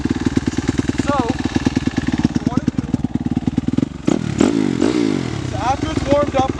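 A dirt bike engine idles just after starting, a steady close rumble with clatter that runs under ongoing talk, roughening briefly near the end.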